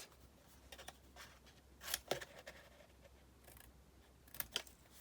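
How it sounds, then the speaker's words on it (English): Scissors cutting corners off an album cover board piece, a few faint, sharp snips spaced irregularly in a quiet room. "once I'm done cutting all these corners out"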